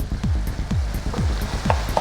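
Meat for a bacon cheeseburger casserole sizzling in a pan while being broken up, with a steady fry and a regular series of scraping strokes about every half second, close and fairly loud.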